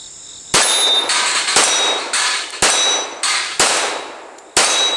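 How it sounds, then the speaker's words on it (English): Five loud, close shots from a Firestorm DLX Government 1911 pistol, fired at an uneven pace, each followed by a ringing metallic clang as the round strikes a steel target. "We're gonna shoot a few rounds here."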